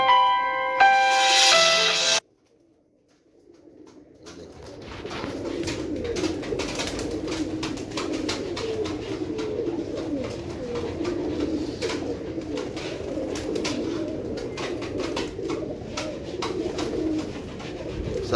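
A flock of show pigeons coos in a steady, overlapping murmur for most of the clip, after a brief bell-like tone and a short hush at the start.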